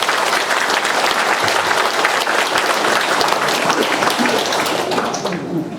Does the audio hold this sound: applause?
yes